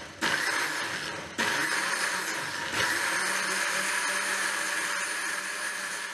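A blender whirs steadily as it grinds mushroom soup in a jug, loud and close, with a brief pause near the start before the motor runs on continuously.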